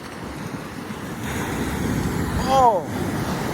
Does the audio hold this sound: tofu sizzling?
no